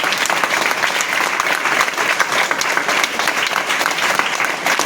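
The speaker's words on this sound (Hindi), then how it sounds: "ताली बजाओ बढ़िया," An audience at a team meeting in Lajpat Nagar, Delhi, bursts into steady, dense applause that is loud and close, with many hands clapping continuously and no pauses.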